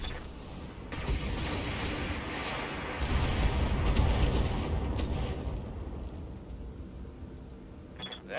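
Mech weapons discharging in Battletech career mode unleash a long, roaring barrage that swells and rumbles for several seconds, heavy and booming, then fades into a lower wash of noise.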